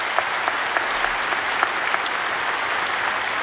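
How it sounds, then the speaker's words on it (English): An audience applauds the Adelaide Youth Orchestra at the IAC 2017 opening ceremony, with steady, dense clapping from a large crowd sustained evenly throughout, with no voices over it. "So please a big round of applause for the Adelaide Youth Orchestra"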